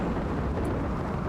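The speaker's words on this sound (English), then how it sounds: "That is a loud thunderstorm." A loud thunderstorm in RimWorld, a deep rumbling roar of thunder and rain that fills the space without pause.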